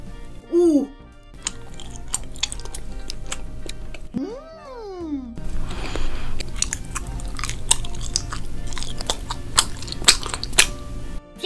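Colorful fruit-shaped snacks being bitten and chewed close up, with crisp crunches and ticking bites repeating steadily, broken by a couple of short child-like vocal sounds near the start.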